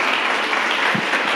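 A church congregation applauds the Lord during a worship service with dense, continuous clapping that stays loud and even, with a faint low thump near the middle.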